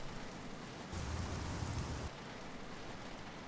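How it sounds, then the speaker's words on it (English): Steady rain falling in the Euro Truck Simulator 2 driving game, a dense hiss that swells louder for about a second in the middle before settling back to a constant wash, with no talking. "Why is it still raining?"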